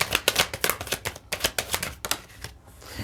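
Tarot cards are handled and shuffled up close, giving a quick series of crisp riffling snaps and flicks that slow and trail off toward the end.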